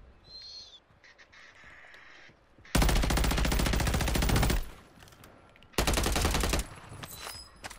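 Sniper rifle fire in the Warzone shooter game: two loud, dense bursts of gunfire around three and six seconds in, the first lasting nearly two seconds, set against quieter game ambience.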